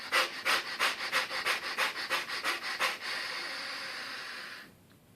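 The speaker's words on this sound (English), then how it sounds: "you just use your belly to push air out, and then use your belly to suck it in, just like that. But you do it rapidly 10 times." Rapid belly breathing for meditation: about ten quick, forceful rhythmic puffs of air pushed out and sucked back in, close to the mic, then a long steady inhale that fades to quiet.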